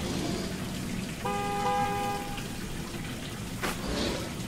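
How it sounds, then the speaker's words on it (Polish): Fuel delivery truck horn honks in Gas Station Simulator, a single steady tonal blast lasting about a second over a rainy, noisy background, moderately faint and somewhat distant. "Ale tam ktoś trąbi."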